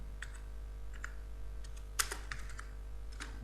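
Typing on a computer keyboard: scattered, light key clicks come up close and faint over a low steady hum, with one sharper tap near the middle.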